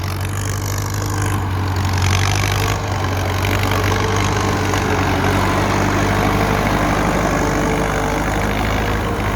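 A Ford tractor engine runs steadily nearby while plowing a rice field, a loud constant low rumble with no changes in pace and no voices.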